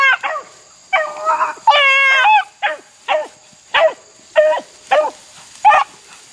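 A redtick hound puppy bays and yelps in repeated bursts while chasing a rabbit in the field, its barks loud and close with a few drawn-out howling notes and no talking over it.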